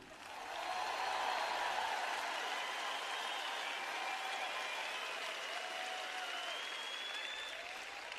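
A large audience at a sermon applauds, a dense, even wash of clapping that swells within the first second and holds steady for several seconds, with faint voices rising through it.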